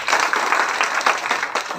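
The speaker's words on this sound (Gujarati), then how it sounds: "તો આપણે એમને તાળીઓથી વધાવશું બધા" Brief burst of hand clapping from a gathered crowd at a village panchayat event, welcoming a newly declared deputy sarpanch, dense and fairly close for under two seconds.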